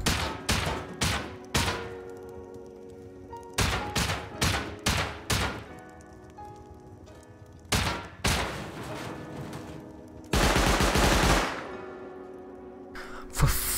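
An auto turret in the video game Rust fires in rapid clustered bursts of sharp shots, loud and close, broken by short pauses and one longer sustained volley.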